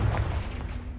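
A Confringo fire-blast spell in the game Hogwarts Legacy erupts as a single deep, explosive boom with a rumbling low-end tail, close and forceful, fading over about a second.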